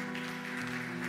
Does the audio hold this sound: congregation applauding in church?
yes